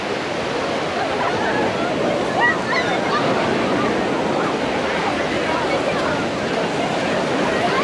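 Mediterranean Sea waves on a beach on the south side of Barcelona give a constant broad rushing wash of surf that stays loud and even throughout.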